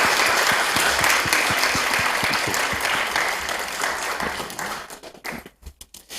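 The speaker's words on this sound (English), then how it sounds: "Give the panel a round of applause" Audience applauding a panel at the close of a discussion on digitalization and labor, a steady full round of clapping that thins into scattered individual claps and dies away near the end.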